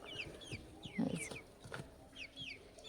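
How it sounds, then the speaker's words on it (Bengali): Chickens cluck softly at a distance in a two-storey coop house, giving scattered short clucks over a faint background hum. "কতগুলো মুরগি দেখো।"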